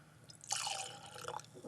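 Blanton's Kentucky Straight Bourbon from Buffalo Trace Distillery, poured from a bottle with a tattered label, giving a brief liquid splash and trickle of about a second, close and fairly quiet, with no talking.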